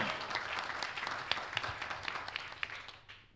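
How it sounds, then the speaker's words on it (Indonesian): Applause from a church congregation during a Sunday worship service, a moderate, steady patter of many hands with a few sharper individual claps, fairly distant and fading toward the close. "Berikan tepuk tangan yang meriah buat Tuhan."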